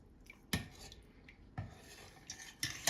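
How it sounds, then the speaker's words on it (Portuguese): Cheese curds stirred slowly in a metal pot: a few sharp, distinct clinks of a utensil against the pot, roughly one every second, with soft scraping and liquid sloshing in between, close and quiet. "Bem devagar, eu vou mexer."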